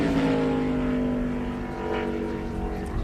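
One of Jay Robinson's Ford race cars roars loudly on a qualifying lap at a 2003 250 race, a sustained high-revving engine note that sags slightly in pitch, with no voices over it.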